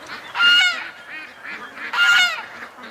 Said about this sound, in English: Ducks are just leaving to go to the lake here